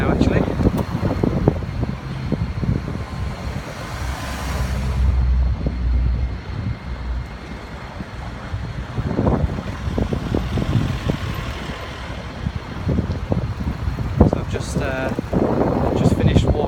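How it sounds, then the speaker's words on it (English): Wind buffets the microphone outdoors at a mall construction site, a steady breezy rush with gusty thumps and distant traffic-like rumble, while a person talks over it. "Quite breezy right now actually."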